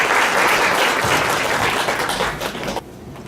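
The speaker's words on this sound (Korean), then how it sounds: "수고해주신 송탁 대표님께 큰 박수 부탁드리겠습니다." Audience at a startup forum applauds a company presenter after a short pitch, a full burst of dense clapping that tapers and then cuts off abruptly near the end.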